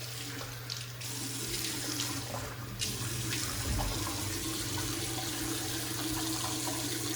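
Tap water runs steadily from a faucet into a sink as a face is wetted before a wet shave, a continuous close splashing flow for the whole stretch.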